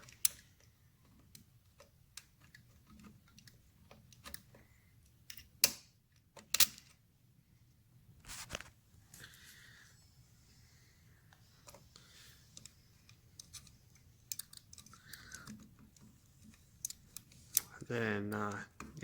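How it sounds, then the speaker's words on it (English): Screws being driven by hand into a 1940 Harley-Davidson cat-eye style dash assembly during a restoration mock-up, heard as scattered close clicks and short metallic ticks with pauses, ending in a louder rattling burst. "Just going to run these screws in here."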